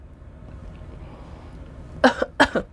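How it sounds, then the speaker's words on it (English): Two sharp coughs close together near the end, after a stretch of quiet room noise. "Excuse me, I knew I needed to cough."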